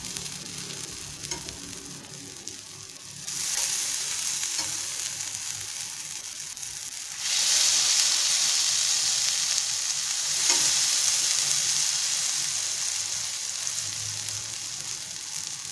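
Eggplant slices fry on a hot tawa with a steady, loud hissing sizzle that swells louder partway through, close up, with no talking.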